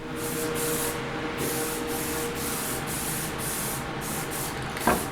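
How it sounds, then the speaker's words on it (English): A can sprays flat clear coat onto antique Singer swing seat brackets in a series of short hissing bursts close up, ending with a light knock. "I'm just going to get a couple coats of some clear on these seat brackets"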